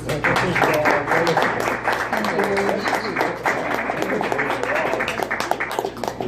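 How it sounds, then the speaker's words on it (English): Audience applause and scattered cheering for a comedian at a stand-up show, a dense sustained wash of clapping that stays steady and fairly loud throughout, with voices mixed in. "Let's give a warm round of applause to Sherry Bass."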